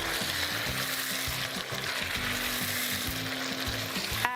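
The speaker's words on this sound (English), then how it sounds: "Give it a good stir." Chicken karahi sizzles and crackles steadily in the pan while being stirred, the frying noise constant and close with a faint clink at the end.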